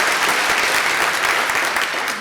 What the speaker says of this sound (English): so a little round of applause for Elise.